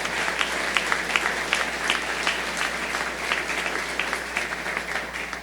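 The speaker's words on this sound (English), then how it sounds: "Let's give them a big round of applause for their work." Audience at a public event with the Maryland governor announcing an AstraZeneca expansion breaks into sustained applause, a steady crowd of clapping hands at moderate distance that fades slightly toward the end.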